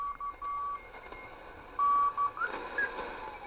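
Radio signals received on the 20 meter band through an SX-140 receiver switched to single sideband: steady intermittent tones beeping on and off over a low hiss of static, with a warbling chirp near the end and no voices.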